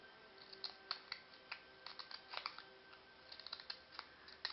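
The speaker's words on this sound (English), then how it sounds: "we're going to take our decorative scissor, and in this case, it's the scissors that have this, that will cut out this design." Decorative scissors cut a design into a paper card for a pine cone Christmas card, giving faint, quiet snips and crisp little clicks in an irregular rhythm, with no talking.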